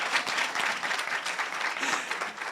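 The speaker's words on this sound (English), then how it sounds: "Can you please give a round of applause to me?" Audience applause at a talk or panel event, a brief burst of many hands clapping in a room, steady and fairly soft throughout.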